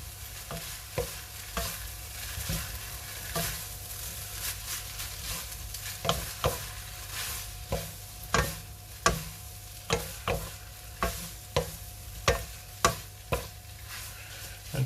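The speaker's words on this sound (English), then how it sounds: "I'm just going to grab 2 spoons and we just mix this together." Two spoons toss Pad Thai noodles together in a pan, producing a long, fairly quiet series of evenly spaced clicks and soft scrapes that grow a little sharper toward the end.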